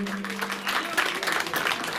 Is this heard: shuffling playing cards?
no